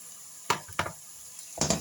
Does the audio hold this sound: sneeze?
no